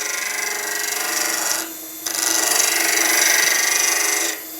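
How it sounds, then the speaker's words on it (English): A skew chisel cutting a resin dragon's egg on a spinning lathe, giving a loud, steady scraping hiss that drops briefly twice as the tool lifts off, then bites back in. "If you're going into the base, use the toe of the skew"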